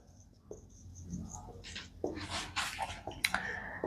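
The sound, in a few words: writing on board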